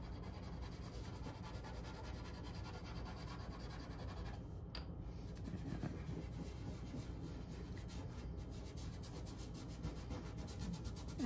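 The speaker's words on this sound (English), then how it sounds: "And I'm rubbing pretty hard." Soft pastel is rubbed firmly into paper by hand, a quiet, steady dry rubbing and scratching that runs continuously with slight variations in stroke, close and faint, with no talking.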